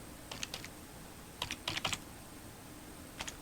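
Fingers tap on a computer keyboard in short scattered bursts of soft clicks, quiet and close, with pauses between keystrokes and no talking.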